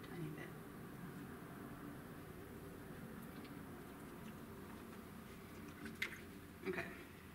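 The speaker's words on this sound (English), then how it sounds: "Rinse my brush again, same color." A paintbrush is swished and rinsed in a water jar during a painting session, a soft, faint watery squish with a few small splashy drips near the end over a low steady room hum.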